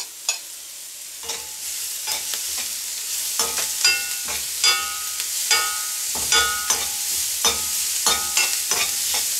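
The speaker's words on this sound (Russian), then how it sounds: "Жарим все вместе." Onion and carrot fry together in a pan as beef meatballs in sour cream sauce are prepared, with steady sizzling broken by repeated scraping stirs at close range and no talk.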